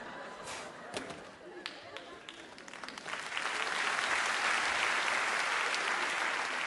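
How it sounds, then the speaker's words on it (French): Comedy club audience at a stand-up show breaks into applause; scattered claps and a voice come first, then the clapping swells into a full, steady round from the crowd. "J'aime bien quand vous applaudissez."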